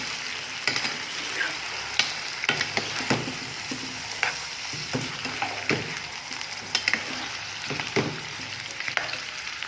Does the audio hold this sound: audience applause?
no